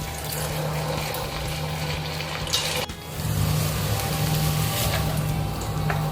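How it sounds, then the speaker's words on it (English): Paneer balls deep-frying in hot oil, a dense continuous bubbling hiss with a low steady hum beneath, close and fairly loud, briefly interrupted midway. "Now let's fry paneer balls."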